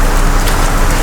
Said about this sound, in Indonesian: Dan hari pun hujan.